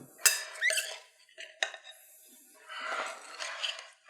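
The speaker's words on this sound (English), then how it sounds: "Let's give it a quick stir." A corn salad being stirred in a bowl, with a few sharp utensil clinks and scrapes, then a soft rustling churn of mixed ingredients, close and intermittent with quiet gaps.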